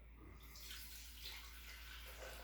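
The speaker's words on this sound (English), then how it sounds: "I'm going to pour a little water in it." Water poured into an empty glass cylinder vase for a wedding floral centerpiece, a steady splashing pour heard alone and fairly faint, with no talking.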